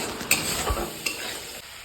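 Ground cumin and red chilli powder sautéing in a pan for egg curry, a steady close sizzle with a few sharp clicks of a spoon stirring against the metal, no voices.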